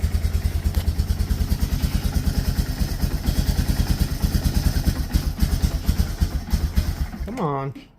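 A Yamaha Bear Tracker ATV engine with a carburetor problem runs close by with a rapid, uneven chugging pulse and thumping clatter, steady throughout before a short rising whine near the end.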